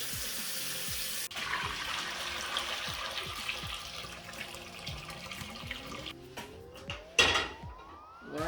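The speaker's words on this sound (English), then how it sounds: "we're gonna go ahead and turn on the hot water" Hot water runs from a tap at a sink while dyeing clothes black, a soft steady stream under scattered clinks and handling noises, with a sharp bump and a rising tone near the end.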